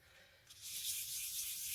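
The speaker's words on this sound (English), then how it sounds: "sanding it down to where you've got the chip level and the colours in the right position" A jesmonite terrazzo candle holder is sanded by hand. After a brief quiet start, a close, soft, steady abrasive hiss of grit rubbing the surface sets in and continues.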